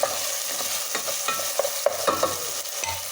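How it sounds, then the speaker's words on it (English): Potatoes frying in a pan are stirred with a run of quick, irregular scraping strokes over a constant sizzle, nearby and fairly loud, with no one talking. "So, just give a stir"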